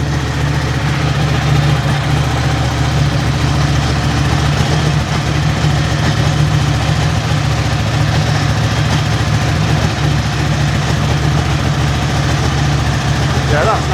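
A Ducati motorcycle engine idles close by in a garage, a loud, steady low throbbing rumble that holds constant throughout, with people talking faintly over it.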